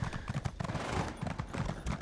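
A horse in the video game ESO: Blackwood trots with a steady rapid clip-clop of hooves, soft and close, without talking.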